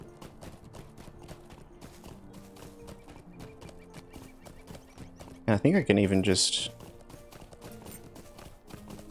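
Horse hooves in the video game LOTRO clip-clop in a steady rhythmic patter as a mount runs, with a loud whinny bursting out partway through, and someone talks briefly over the hoofbeats.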